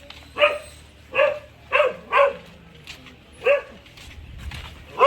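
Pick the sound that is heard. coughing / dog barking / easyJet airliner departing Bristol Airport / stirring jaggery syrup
dog barking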